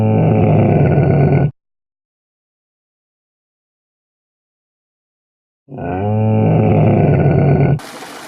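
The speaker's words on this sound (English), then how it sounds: "Camel." A camel bellows in two loud, rough, groaning calls, the first about a second and a half long, the second starting after a long silence and rising with a throaty gurgle before cutting off.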